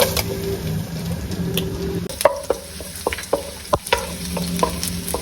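Chopped garlic frying in oil in a pan, a close sizzle that quiets partway through, followed by a series of sharp spoon clicks and scrapes against the pan.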